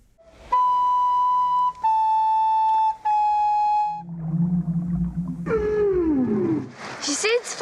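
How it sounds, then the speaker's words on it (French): Whale song from a film soundtrack: long steady tonal calls held in three separate notes, then a lower rumbling moan and a falling wail, loud and close, with some music around it. "faire entendre des chants de baleines"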